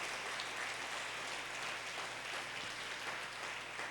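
A church congregation at a family service applauds with a soft, even wash of clapping that sounds distant and fairly faint and holds steady throughout.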